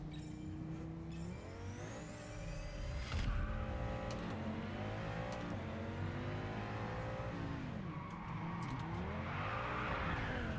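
A car skids under the handbrake in the racing game Test Drive Unlimited Solar Crown, its engine revving and shifting pitch over several seconds, with a rising hiss of tire scrub and broadband noise near the end.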